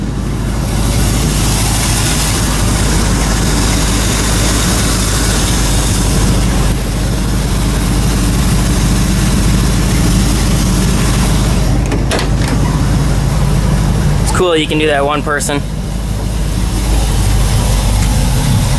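427 big-block Chevy V8 idling in a firetruck COE hauler, a steady deep rumbling idle running loud and close throughout, with brief mechanical rattles and a short spoken remark over it.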